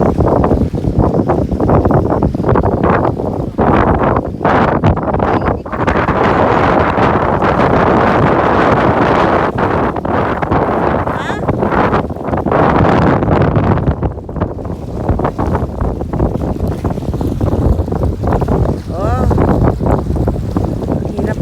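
Strong wind roars across a boat at sea in rough, wavy water, a loud continuous buffeting rush with gusty swells throughout and faint voices underneath.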